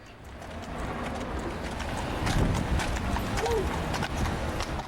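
Police horses' hooves clip-clop on pavement near a ballpark crowd on opening day, a string of sharp knocks over a busy murmur of voices and people talking.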